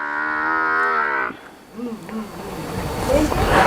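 A long, loud moo from a Jafrabadi buffalo calf rings out close by, followed by quieter rustling, buzzing insects and shuffling farm noises.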